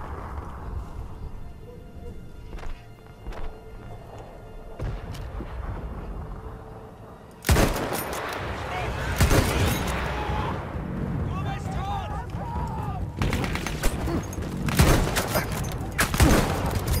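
Gunfire in the Battlefield 1 video game, first as faint distant shots and then as loud, rapid volleys and blasts in the second half, with someone talking in German over it.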